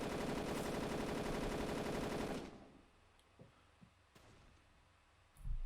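Automatic weapon gunfire in the wartime shooter Darkest of Days, a sustained loud rapid burst of rounds lasting a couple of seconds, then stopping and leaving a few scattered distant thuds and a low thump at the end.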